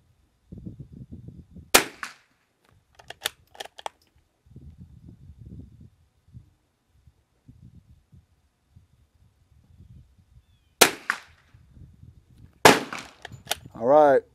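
Sharp rimfire rifle shots from .22LR Aquila and LAX ammunition, two close cracks early and two more later, loud and near, with low rustling and handling noise in between and a brief tonal beep near the end.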